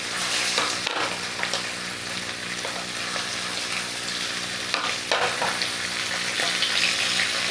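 Cut papaya pieces with cumin seeds frying in a hot pan for fish head curry, a constant close sizzle broken by scraping stirs and a few clanks of the utensil, with no talk.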